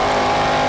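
On-board engine of Dan Ehlers' number 42 B-modified race car, pole sitter at Nobles County Speedway, a steady, loud, continuous drone filling the short stretch without a break.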